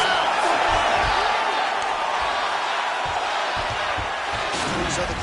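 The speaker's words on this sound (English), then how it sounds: "So the crowd voicing its appreciation after that round" Arena crowd in UFC 4 roaring and cheering after a round, a steady broad wash of noise with scattered thumps throughout, loud and continuous.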